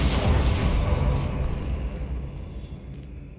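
A Bombarda blasting spell detonates in Hogwarts Legacy, a loud low boom right at the start that rolls off into a fading rumble over a few seconds.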